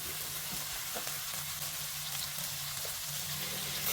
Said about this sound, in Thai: กระเทียมสับเหลืองหอมดีแล้วครับ เชฟก็จะใส่ปลาหมึกลงไป 200 กรัมเลยครับ